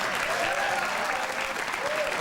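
Applause from a late-night television studio audience, a dense steady patter of many hands clapping that carries on evenly from start to finish, with voices faintly audible underneath.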